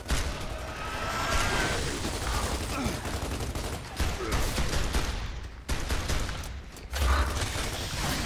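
Rapid gunfire in Gears of War 2, loud bursts of automatic fire with mechanical clanks and creaks, cutting in and out in uneven stretches with brief pauses.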